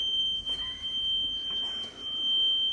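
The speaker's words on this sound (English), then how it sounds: "Can you do the smoke detector?" A kitchen smoke detector sounds a continuous piercing high-pitched tone throughout, steady and loud, with faint clatter and movement beneath it.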